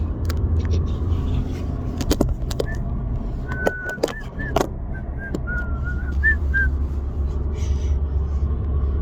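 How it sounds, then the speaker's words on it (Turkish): Inside a moving Ford Focus, a steady low road rumble and engine drone run throughout, with scattered clicks, a few short whistled notes and faint voices in the cabin. "şimdi arabanın içindeyiz gidiyoruz"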